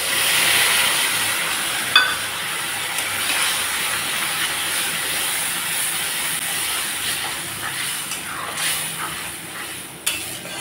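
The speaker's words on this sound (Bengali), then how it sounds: "এখন এর ভিতরে দিয়ে দিচ্ছি মশলা।" Spices hit potatoes frying in a pan, giving a steady, close sizzle and hiss with a few small clinks throughout.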